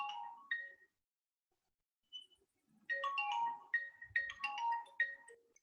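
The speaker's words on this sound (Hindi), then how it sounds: "एक बहुत जरूरी फोन आ गया बेटा, लेना पड़ेगा" A phone ringtone plays a bright, chiming melodic phrase, pauses briefly, then repeats in a fuller burst of quick notes, clear and fairly close in a quiet room during a class.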